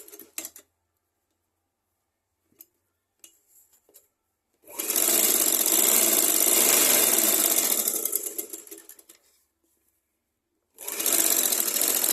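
A sewing machine stitches blouse fabric in two bursts, a long steady whirring run of several seconds and then a second burst starting, separated by quiet pauses with faint handling clicks.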